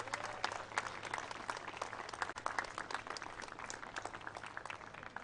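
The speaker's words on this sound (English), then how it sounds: "let's give a massive round of applause for our two finalists today" A tennis crowd applauds the two finalists after the men's final of the 91st National Bank Stanley Park Open, with sustained, crackling clapping at moderate distance and a faint low hum underneath.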